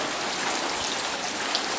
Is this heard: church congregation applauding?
no